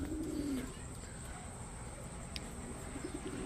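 Racing pigeons arriving at a loft during a pooling race in Carmen, Nueva Ecija, with a soft low cooing at the start and again near the end over steady outdoor background noise.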